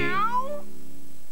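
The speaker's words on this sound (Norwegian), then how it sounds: "det er katten Miss" A cartoon cat from the Norwegian Postman Pat children's TV show gives one short, close meow that slides downward in pitch, alone with no talk over it.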